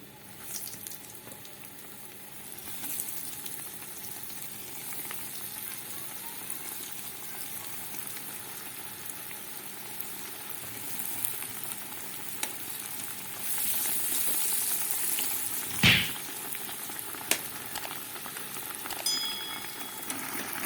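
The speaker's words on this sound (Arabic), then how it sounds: "على زيت ساخن هقلي. زي ما حضرتك شايفة كده في زيت ساخن وهنزل بالبتنجان" Flour-dusted eggplant frying in hot oil, a continuous dense crackling sizzle throughout, with a sharp clink of a utensil partway and occasional pops near the end.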